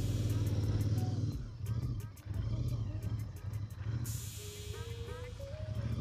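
A Royal Enfield Interceptor 650 motorcycle rumbles along steadily on a city ride, a low throbbing engine drone with wind noise that eases slightly mid-ride and returns, with no talk.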